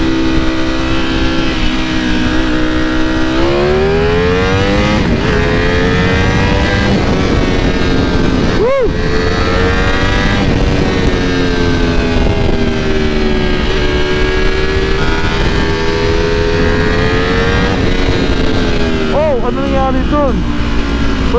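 A Ducati V4 Speciale motorcycle engine warms up, holding a loud, steady idle with brief rises in revs and a sharp blip midway, close to the microphone.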